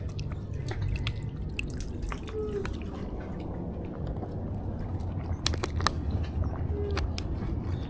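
Water drips and splashes while hands are washed at a harbor at night during a fishing outing, with a steady low wash of water and a few sharp drips standing out near the middle.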